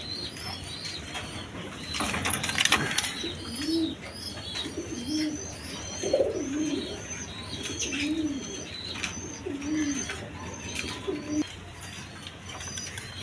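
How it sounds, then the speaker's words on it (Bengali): Chua Chandan pigeons coo in a repeated, rhythmic series at close range, with occasional wing flaps and faint bird chirps in the background. "এখানে এক পেয়ার কবুতর আছে, দেখেন চুয়া চন্দন কবুতর"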